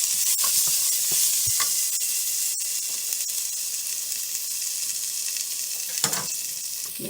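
Asafoetida in hot oil for chana masala crackles and sizzles continuously at close range, with scattered sharp pops and spoon scrapes over a steady frying hiss.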